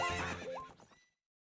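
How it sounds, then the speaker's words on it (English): Epona the horse in Zelda: Ocarina of Time gives one short, sharp whinny with a rising and falling pitch and a faint hoof clop, then fades to silence. "What's up with that horse? Is that Epona?"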